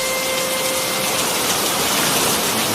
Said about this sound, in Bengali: না, এ বৃষ্টি থামার মতন বৃষ্টি নয়।